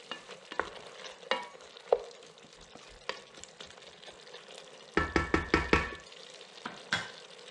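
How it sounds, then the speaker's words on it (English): Vegetables in a pot for Senegalese thieboudienne being stirred, with scattered scrapes and clinks, then a quick burst of rhythmic stirring knocks over a faint sizzle. "Just going to give them a quick stir."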